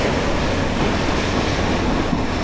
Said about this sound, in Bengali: তোমার এখানে যে আবার দৌড় বেড়ে গেল ট্রেনের